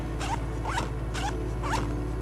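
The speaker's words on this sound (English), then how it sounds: "Let me show you guys up close here how easy it is to get into the zippers here." A zipper on a Naturehike backpack is drawn in four quick, close, crisp zips at a steady rhythm over a constant low background hum, with no talk.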